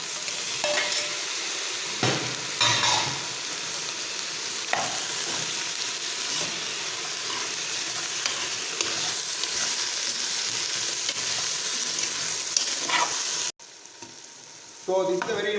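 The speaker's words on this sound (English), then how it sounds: "So now you can add the tomatoes." Tomatoes and raw vegetables sauté in a hot pan for a vegetable biryani, giving a steady, close sizzle with scraping stir strokes that runs throughout, briefly dropping away near the end before resuming.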